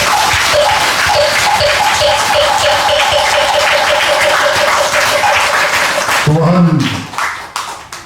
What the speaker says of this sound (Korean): 우리 이병만 하루님께 여러분 감사의 박수 한번 보내주십시오.